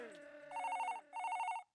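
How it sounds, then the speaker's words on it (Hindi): Landline telephone ringing in a comedy TV show scene, two bright electronic trilling rings with a short gap between them, after a fading tone at the start. "इस बार उसने लैंडलाइन पर फोन किया है।"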